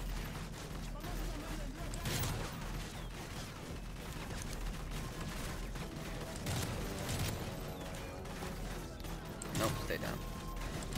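Repeated bursts of gunfire and a few heavier explosive blasts in Call of Duty Modern Warfare 3 Spec Ops, sustained and dense throughout, with player voices talking over the battle.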